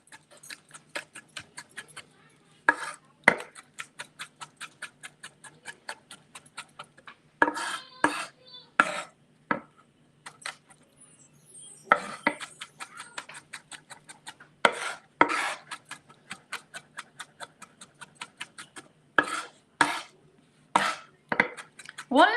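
Garlic chopped with a knife on a board, rapid bursts of crisp taps in quick runs separated by brief pauses, close and fairly loud, no voices.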